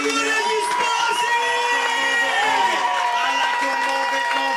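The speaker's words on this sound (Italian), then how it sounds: "facciamo un grande applauso" Wedding guests cheer, shout and whoop for the newlyweds in a lively, crowded room; the noisy celebration carries on over sustained music tones, with voices mixed into the din.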